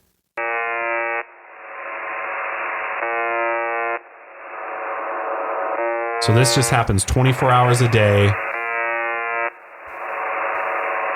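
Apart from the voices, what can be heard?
looping buzzer sound of UVB-76 radio signal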